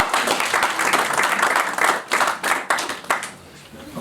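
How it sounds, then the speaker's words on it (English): Audience applause at a diplomatic reception honouring Baroness Scotland, a moderately sized crowd clapping in uneven bursts that swell and then taper off over a few seconds. "May we give her a big applause."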